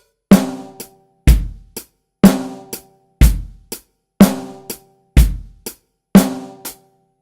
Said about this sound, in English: The first one, we're going to take the kind of most basic rock groove